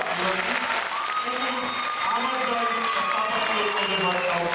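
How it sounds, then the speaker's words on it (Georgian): Audience applause at a grand concert of a choreographic dance ensemble, a dense, sustained roar of clapping from a large crowd with some cheering and voices underneath, loud and unbroken throughout. "ამას აპლოდისმენტები ჭირდება"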